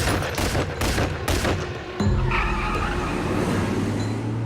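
Rapid burst of gunfire from a passing car, a spray of shots fired at another vehicle on a street, loud sharp cracks in quick succession followed by a car engine rumbling and tyres moving off.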